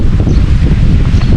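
Strong wind buffeting a microphone at a scenic overlook in Bulalacao, Oriental Mindoro, a loud, rough, continuous low roar with gusty fluctuations and no voices.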